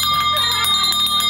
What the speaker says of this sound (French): Vas-y, va faire sonner la cloche